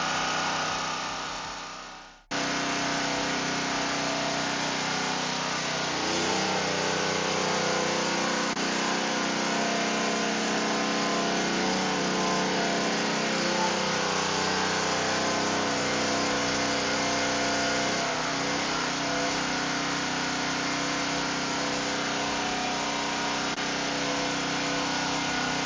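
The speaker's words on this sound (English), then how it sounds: "See how the generator is running." WEN 4750 portable generator engine running steadily outdoors after a restart, a loud, continuous buzzing drone with a sudden cut-in early on, then an even, unbroken hum with no voices.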